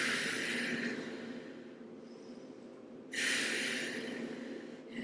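Audible breathing during a Pilates mermaid side-bend stretch on a mat: a long, airy exhale fades out, a quiet pause follows, then another breath rushes in close to the microphone.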